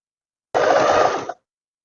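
A sewing machine runs a single continuous burst of stitching along a tailored vest's lining, loud and close, with a steady whir lasting under a second before it stops abruptly.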